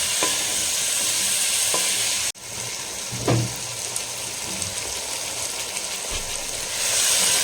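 Chicken for a hotel-style roast sizzles with soy sauce on high flame, a steady close frying hiss under repeated stirring scrapes and a few knocks of the spoon against the pan, with no talking.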